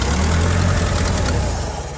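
An old Hyster forklift's flathead engine runs roughly, a loud, close, continuous low rumble with an uneven, unsteady edge and no speech.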